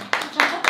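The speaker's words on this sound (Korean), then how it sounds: "우리 너무 환영한다고 우리 큰 박수 부탁드립니다." A few sharp bursts of clapping from a church congregation during a Sunday service, three distinct rippling waves of hands close by, each quickly fading.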